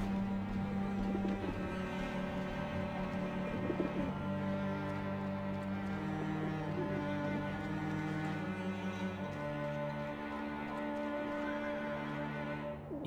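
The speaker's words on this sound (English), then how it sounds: "but the birds don't seem to mind" Soft cooing of pigeon-like birds in a coop from the video game Alice Madness Returns, layered over a droning tonal ambient background, faint and continuous throughout.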